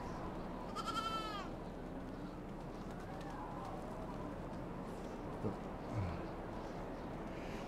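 Goat bleating in the medieval farming game Medieval Dynasty, a short wavering bleat early on over steady ambient outdoor game noise, with a few faint thuds later.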